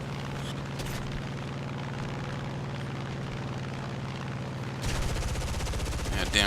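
Heavy, continuous rumbling battle din from the M18 Hellcat tank destroyer in War Thunder arcade combat, with dense booming gunfire and engine drone throughout and a louder burst near the end.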